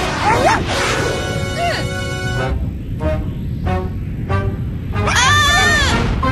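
A cartoonish space dog from Rolie Polie Olie yaps and barks in short bursts, bright and close, mixed with playful musical tones and sound effects.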